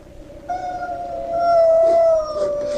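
A dog howls in a live radio drama from 1984, a long wavering high howl that rises and holds before easing off, fairly close and clear with no talk over it.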